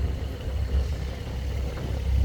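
A Porsche GT4 engine gives off a steady low rumble at moderate loudness, swelling slightly toward the end, with no voices over it.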